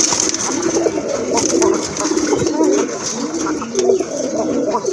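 Two male pigeons for sale coo loudly and close by, repeated throaty rolling coos overlapping in a continuous stream amid faint background noise.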